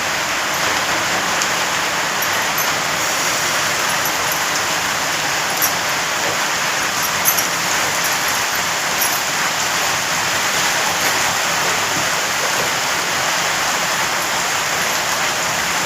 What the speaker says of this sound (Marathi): तर यामध्ये मी टोमॅटो घालते आता